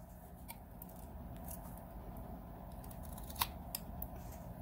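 A knife carving a three-way chip cut out of a wooden walking stick, producing quiet scraping and a few small crisp snicks against a soft steady background hiss.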